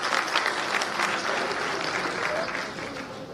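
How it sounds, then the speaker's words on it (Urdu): An audience at a Kashmir literature festival applauds, a dense, steady patter of many hands clapping close and loud, sustained evenly throughout without pause. "تو ان کے لیے بھرپور تالیاں"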